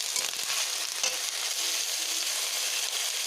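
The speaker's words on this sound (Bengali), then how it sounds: "এবারে একটু নেড়ে নিচ্ছি" Steady, close sizzle of oil frying in a pan with light stirring, whole cumin in the oil while cooking a country chicken curry; continuous and even throughout, with no voices.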